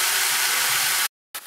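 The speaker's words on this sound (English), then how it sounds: "All right, bacon's frying." Bacon sizzles in a frying pan with a steady, loud crackling hiss that cuts off abruptly near the end.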